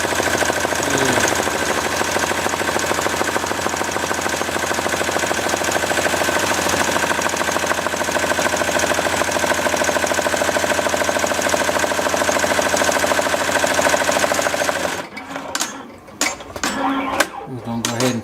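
Melco Bravo X commercial embroidery machine stitching lettering on a patch, a loud, steady, rapid mechanical chatter running continuously up close, then stopping near the end, followed by scattered clicks and handling noises.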